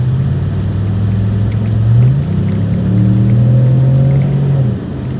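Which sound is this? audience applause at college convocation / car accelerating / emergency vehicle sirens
car accelerating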